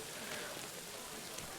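Rain falling in the video game Kingdom Come Deliverance 2, a faint, steady patter and hiss with no clear breaks.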